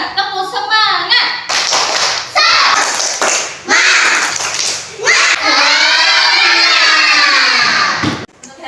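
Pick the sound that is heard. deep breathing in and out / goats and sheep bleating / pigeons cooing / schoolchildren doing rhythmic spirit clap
schoolchildren doing rhythmic spirit clap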